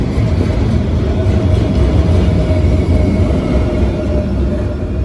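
A street-running freight train hauled by six locomotives, including a slug unit and a heritage DPU, rumbles past loudly and steadily, a dense low roar of engines and rolling wheels with no pause.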